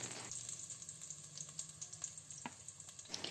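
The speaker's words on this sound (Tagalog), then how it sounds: "Ayan, naglagay na po tayo ng minced onion or sibuyas." Minced onion frying in palm or other cooking oil, a steady close sizzle with small crackles and pops running through the whole stretch, no voices.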